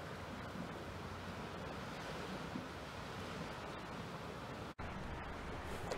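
Waves break and wash along Gibbon Beach near Port Hacking Point, a faint, steady surf rumble with wind noise over the microphone and a brief dropout near the end.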